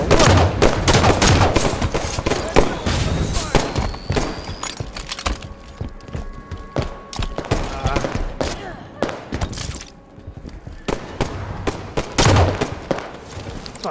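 Dense, continuous gunfire in Halo 5: Guardians, with overlapping shots and mechanical clatter throughout, loud and close with brief lulls between volleys.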